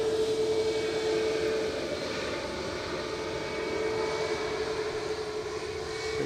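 An airliner rolling for takeoff at Edinburgh Airport gives a strong, continuous engine roar with a steady whining tone through it, heard alone and fairly close.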